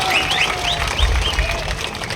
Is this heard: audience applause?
yes